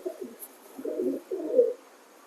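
A female pigeon coos softly nearby, giving a few low, throaty rolling calls in a short sequence.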